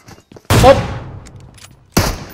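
Two loud, sharp sniper rifle shots from an AWM in PUBG Mobile, about a second and a half apart, each with a long decaying echo tail, over faint background game noise.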